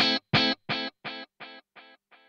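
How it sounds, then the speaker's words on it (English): A distorted guitar note played through a BOSS 500 series pedal set to Echoplex tape delay, repeating seven times in an even rhythm and fading a little with each echo. "You can hear it's got that classic echoplex delay thing going on"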